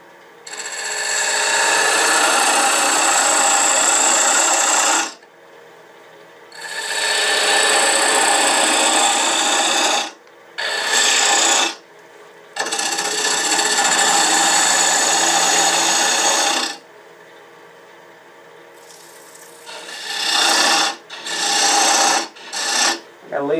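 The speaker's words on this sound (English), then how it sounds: "Since this is a bowl, normally you're going to go from the outside to the inside with hollowing" A lathe tool hollows a wooden bowl on a wood lathe, making harsh, loud scraping and rasping in long passes broken by brief pauses and then short choppy cuts toward the end.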